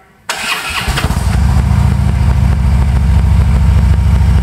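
A 2012 Harley-Davidson Road King with Stage 1 Vance and Hines exhaust cranks briefly, then fires up loud and close into a deep, throbbing, lumpy idle that holds steady without talk.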